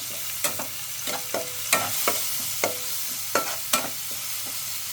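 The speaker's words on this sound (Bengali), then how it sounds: "মশলাটা একটু ভালো করে ভেজে নেব" Ground spices and a bay leaf fry in a pan with a splash of water, giving a steady close sizzle broken by regular scraping strokes of a spoon stirring, about two each second, with no talking.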